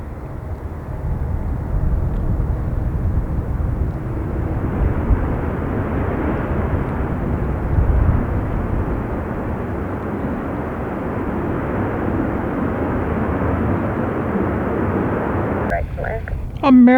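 A Boeing 737 airliner at an airport on a windy day, producing a sustained broad engine roar that rises and falls over about seventeen seconds.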